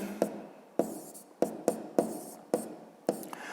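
Chalk or marker tapping and scratching on a board as maths is written out, about seven sharp strokes in an irregular rhythm, close and clear with no talking.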